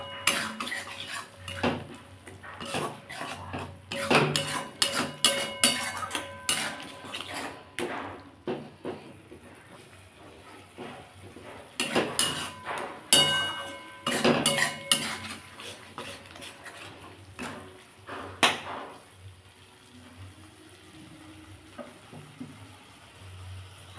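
A spatula stirs and scrapes a spice masala with onion and salt in a pan for Bengali onion prawn curry, producing loud, irregular metallic clatter in bursts, with pauses and a faint sizzle between strokes.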